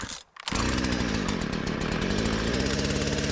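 A Husqvarna chainsaw fitted with a Log Wizard debarker fires up after a brief pause and then runs at a loud, steady buzzing drone up close, without any voices.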